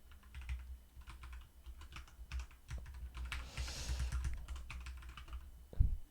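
Rapid typing on a computer keyboard while HTML headings are written in a code editor, with irregular clicky keystrokes in bursts, close and fairly quiet, a louder key thump near the end; no talk.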